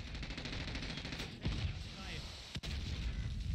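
Grenade launcher fire in a video game brings dense rumbling bursts and booming blasts in rapid succession, loud and continuous with a couple of sharper hits.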